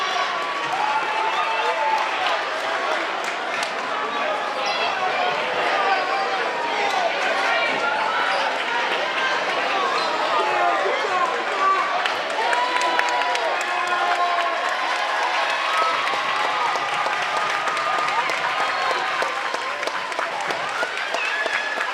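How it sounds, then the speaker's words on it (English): Crowd applause and cheering fill a high school boys basketball gym, Robbinsville Ravens at Trenton Central Tornadoes, steady and loud throughout with dense clapping, shouts and scattered ball bounces under an announcer's voice. "Let me get another round of applause."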